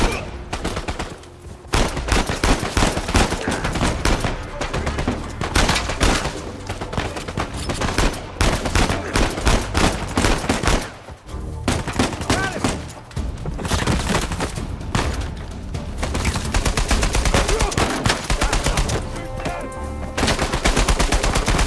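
Dense, loud gunfire from the Uncharted 4 video game, rapid automatic bursts and overlapping shots continuing almost without pause throughout.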